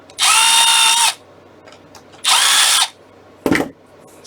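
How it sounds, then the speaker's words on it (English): Two loud, close bursts of a whirring power drill drilling holes in a Baby Yoda puppet build, separated by a pause, followed by a sharp knock. "drill some holes in this guy."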